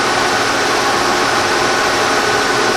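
A milling machine cutter slowly cuts a keyway with the spindle at 33 RPM and under an inch a minute of feed, a loud, steady, noisy grinding hum that stays constant with no breaks.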